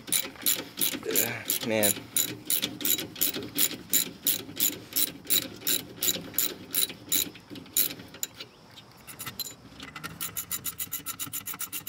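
Ratchet wrench clicking in rapid steady bursts while loosening lock nuts on a Ford Festiva's suspension, loud and close, with a man's brief remark.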